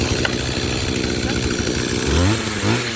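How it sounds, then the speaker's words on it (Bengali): An OGAWA ERD 290 small gasoline engine runs just after starting, a loud buzzing chainsaw-like drone with rough fluctuations, while someone talks over it. "এই যে ফাইনালি মেশিনটা স্টার্ট হয়ে গেছে"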